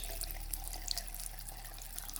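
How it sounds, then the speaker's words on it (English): Tap water runs into a dog's water dish, a steady close splashing fill under a low constant hum. "I filled Goldie's water dish and placed it before him."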